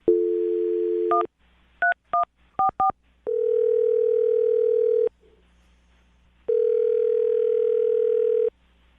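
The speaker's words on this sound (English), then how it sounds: "dial the phone number right now, get her on the phone" A telephone dial tone sounds, then a quick series of separate dialing beeps, followed by two long steady ringback tones with a pause between them, all clear and close.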